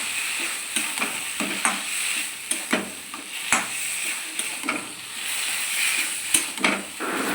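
Eggs fry in a pan for an egg and fish curry while being stirred over and over, a close sizzle punctuated by regular scraping and clacking strokes against the pan.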